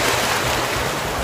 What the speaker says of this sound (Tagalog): Oh, lakas ng alon doon.